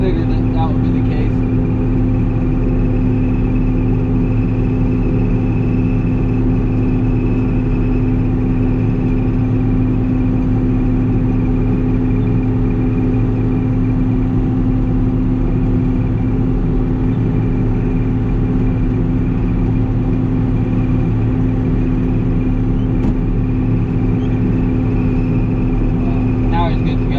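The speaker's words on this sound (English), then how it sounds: "Truck just spinning." Truck engine on a slick field with its wheels spinning during a corn harvest, a loud, steady mid-pitched drone with strong harmonic hum that runs continuously for the whole stretch.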